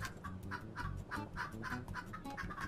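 Chickens in the video game Turnip Boy Commits Tax Evasion cluck in a steady run of short, bright bursts about every half second, loud and close over game music, with no talking.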